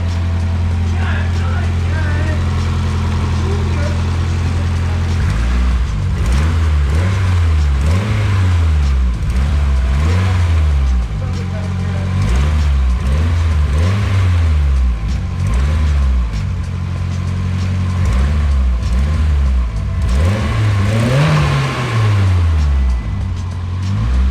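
A Nissan 240SX engine with a cracked exhaust header revving repeatedly in rising and falling surges, loud and rough with a raspy, leaky exhaust rattle, continuous throughout.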